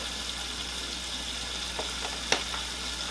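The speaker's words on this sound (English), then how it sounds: "I'm trying to get that sear." Seafood searing in unsalted butter in a hot pan, an even close sizzle with a few sharp pops and spatters, no voices.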